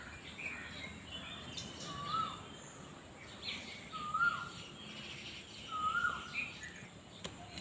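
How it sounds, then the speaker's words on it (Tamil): Asian koel calls carry across the grounds of a holiday villa in Wayanad, Kerala: three or four short, clear whistled notes spaced a couple of seconds apart, fairly distant over a quiet background hiss, with no talk. "நிறைய குயில் சத்தம் ரொம்ப ப்ளசண்ட்டா இருந்துச்சு எங்களுக்கு"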